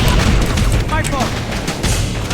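Gunfire rattles in the video game Halo as a dense, loud, continuous wash of shots and booms, with voices talking over it.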